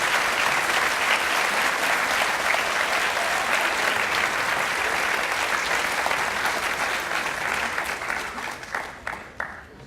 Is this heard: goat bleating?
no